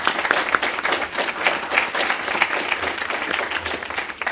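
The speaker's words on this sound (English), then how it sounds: "Would y'all please give them a round of applause?" A crowd applauding steadily, dense clapping that holds at an even level throughout without a break.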